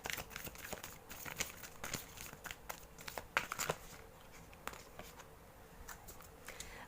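A tarot card is drawn from a deck with soft, crisp crinkling and sliding rustles, a run of quiet close-up clicks and shuffling taps that fade toward the end.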